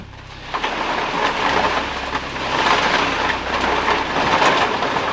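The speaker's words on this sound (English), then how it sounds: "Rain." Rain falls steadily in a dense, hissing wash, loud and continuous, with a low rumbling undertone beneath it.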